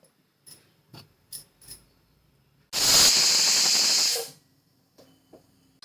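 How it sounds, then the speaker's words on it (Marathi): A pressure cooker holding sweet potatoes, cooked without water over a low to medium flame, lets out one loud, sustained hiss of steam lasting over a second, framed by a few soft taps and clicks before and after. "कुकरची एक शिट्टी झाली बघा"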